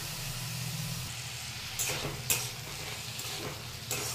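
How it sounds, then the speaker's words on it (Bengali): Chopped vegetables frying in a pan for vegetable oats khichdi, a steady close sizzle with a low hum underneath and a few brief stirring scrapes or clinks. "তো দেখতে পাচ্ছেন আমরা সবজিটাকে ভেজে নিচ্ছি।"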